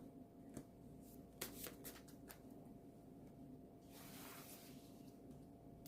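Tarot cards being shuffled and drawn by hand, a soft, steady papery rustle with a few sharper flicks and snaps scattered through, quiet and close with no talking.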